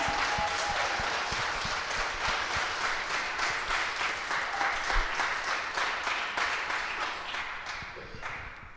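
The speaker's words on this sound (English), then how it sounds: "Can we just have a round of applause for this panel?" A panel on Black teachers draws a sustained round of applause from the audience, thick even clapping that holds for several seconds before starting to thin out at the end.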